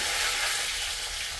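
Onion, green chili and curry leaves frying in hot oil for a jackfruit seed poriyal, giving a steady, close, loud sizzle with no pauses or voices.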